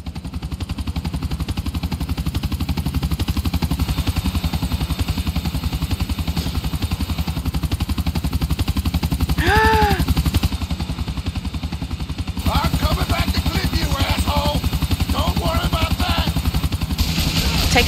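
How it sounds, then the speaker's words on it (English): A helicopter in Grand Theft Auto IV drones loudly and continuously over dense game noise, with bursts of gunfire crackling through the second half and no talk. "Take out the chopper."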